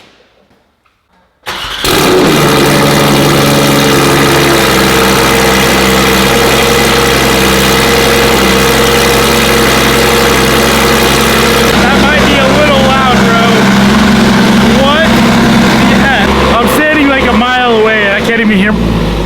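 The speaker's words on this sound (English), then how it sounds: "The first cold start on a full straight pipe 2024 992 GT3RS." A straight-piped 2024 Porsche 992 GT3 RS fires up from cold with a sharp catch, then holds a loud, steady high idle with revving flutters near the end, heard up close.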